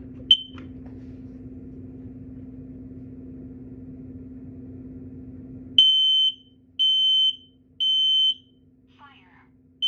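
A smoke alarm under test gives a short chirp, then after a stretch of low hum blares a loud high-pitched beep in a steady repeating pattern of long pulses, close and alone.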